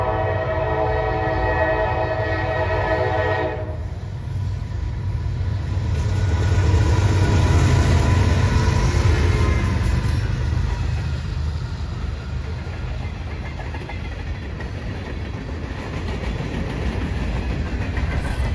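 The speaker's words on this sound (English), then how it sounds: "Here's NS-119 racing up through Thomasville." Norfolk Southern freight train NS-119 racing through Thomasville, North Carolina: a loud chorded horn blast for the first few seconds, then the heavy, steady roar and wheel rumble of the train passing close by.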